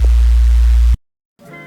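Synthesized sub bass with no effects, a loud, steady deep drone held for about a second before cutting to silence, then other music faintly returns.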